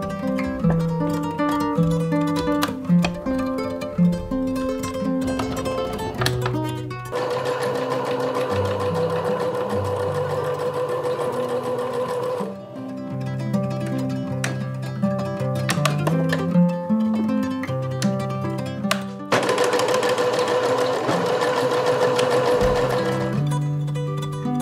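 Sewing machine stitching steadily in long runs, its rapid mechanical whir pausing and restarting between seams, heard alone over soft background music.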